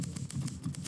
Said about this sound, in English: steadily banging away on the typewriter